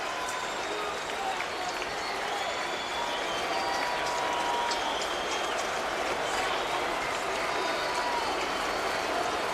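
A baseball stadium crowd applauds and cheers at a 2010 Indians game, a wide, distant, even wash of clapping and murmur, with a broadcaster talking over it.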